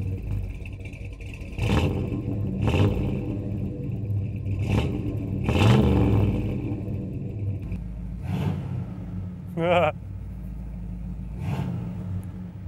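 A 1976 Ford Gran Torino's engine rumbles at a steady idle, broken by several loud revs in a row, with a brief higher whine near the end, heard close with no talking.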